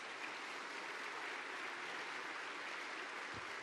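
Steady dense applause from a crowd at a Turkish gathering, honoring a woman in the audience, a continuous even wash of clapping with no pauses.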